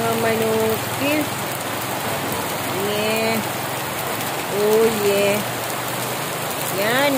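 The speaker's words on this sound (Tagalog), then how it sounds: "malakas ang ulan. Malakas ang ulan dito sa Bohol." Heavy morning rain pours down steadily in Bohol, a dense constant hiss, while a few brief, faint rising calls sound over it.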